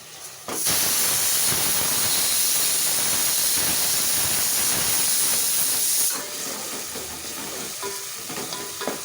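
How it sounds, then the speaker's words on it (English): Ginger garlic paste fries with half-browned onions in a pan for a black chana curry, a loud steady sizzle and hiss that swells suddenly at the start and eases after a few seconds, with no talking. "Into this, the regular 1 teaspoon of ginger garlic paste. Fry that very well."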